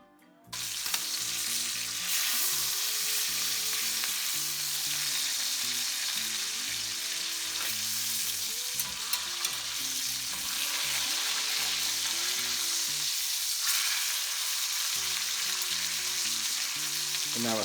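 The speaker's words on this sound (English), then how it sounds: "we're getting a nice golden brown on our sear." Brined ribeye pork chops searing in a pan, a loud steady sizzle that starts abruptly and holds constant throughout, close and with no talk.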